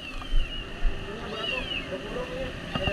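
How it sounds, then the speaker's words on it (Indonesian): A cat meows a few times inside a building during a large plastic warehouse fire in Banjar, with firefighters talking over a steady background rumble. "Kucing."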